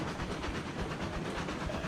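A train rumbles in the railroad video game Railroads Online, a dense continuous roll of rattling and hissing with faint rhythmic clacking, steady and fairly loud.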